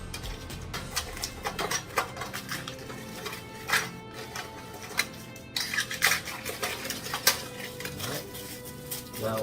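Pieces of a Bulin 4-person 37-piece non-stick camping cookware kit, including kettle, cups and a folding ladle, clatter and clink as they are folded and nested together, a steady run of close metallic knocks and scrapes.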